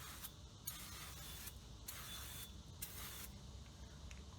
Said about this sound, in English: take a little bit of brake clean. You just kind of clean that out